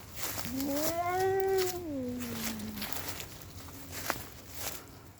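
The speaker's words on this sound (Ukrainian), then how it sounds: "киця собі там сидить спокійно" A ginger cat outdoors on a winter walk gives one long rising then falling meow, close and clear over faint outdoor background, followed by a few soft steps and a small tap.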